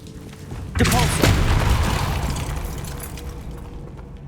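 A Depulso spell cast in Hogwarts Legacy lands as a sudden loud whooshing blast with a crackling impact, then a rumbling tail that slowly fades over a few seconds.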